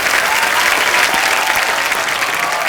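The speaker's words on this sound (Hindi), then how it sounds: "अजय देवगन काजोल के साथ जोरदार तालियां।" Loud, dense studio audience applause on the set of The Kapil Sharma Show with Ajay Devgn and Kajol, a steady roar of clapping hands that continues throughout.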